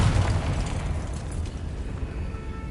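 Confringo fire spell explosion in the Hogwarts Legacy video game, a loud booming blast with a rumbling low-end tail that stays dense and steady for about three seconds, with no talk over it.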